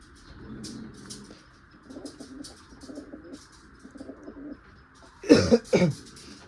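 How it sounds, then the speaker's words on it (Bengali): Yellow-eyed pigeons of a fancy pair coo close by in soft, low, throaty bursts, repeating at an even pace, with two louder calls near the end. "আর এক জোড়া শখ করো, কাঁচা হলুদ চোখের মধ্যে রাজেনওয়ালা পায়রা।"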